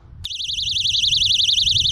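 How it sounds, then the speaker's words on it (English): A personal safety alarm bursts on abruptly, a loud, shrill warbling electronic tone that wavers rapidly and holds steady without a break, with low rumble beneath. "I've started carrying a personal alarm with me."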